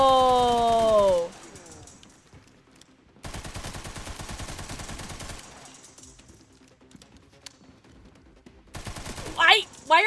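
Gunfire from armed zombies in the video game Resident Evil Requiem: bursts of rapid automatic shots start and stop in clusters, with a game voice and other effects around them.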